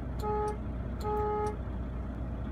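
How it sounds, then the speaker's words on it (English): A truck's horns sound in two short blasts, a highway horn then a city horn, loud and close over a low idling rumble. "your highway horn, your city horn"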